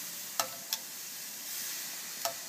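Steady sizzle of beef ribs on a grill as Newcastle beer hits them, with a few faint crackles and pops over the continuous hiss.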